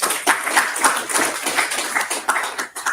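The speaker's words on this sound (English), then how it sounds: "I want to give him a big round of applause." Close, loud audience applause at a multidisciplinary research and entrepreneurship gathering, rapid overlapping claps in a steady roll for several seconds with no talking over it.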